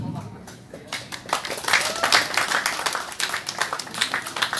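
Applause from an audience gathered at a Jakarta community silat village event in Petukangan, a steady dense patter of clapping lasting throughout, swelling slightly in the middle, with voices mixed in.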